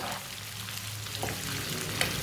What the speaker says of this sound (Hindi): प्याज डाल लेंगे। प्याज को हल्का सा ब्राउन कर लेंगे।